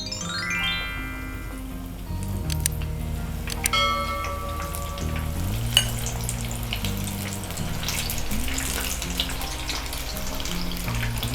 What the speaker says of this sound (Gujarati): ગેસની હાઈ ફ્લેમ ઉપર આપણે આ કોર્ન પકોડાને ઉતારી લઈશું